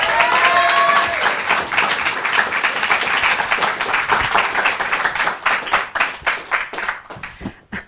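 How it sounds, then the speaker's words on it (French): A studio audience at the French TV show Kandidator welcomes a new contestant with loud, dense applause that thins into slower, distinct individual claps before dying away. "Je vous demande d'applaudir très fort pour la première fois à Candidator,"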